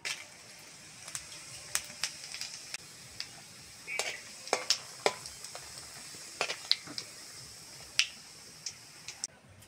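Whole cumin seeds and dried chilies sizzle in hot mustard oil, a soft steady fry hiss dotted with sharp irregular pops and crackles spread through the clip.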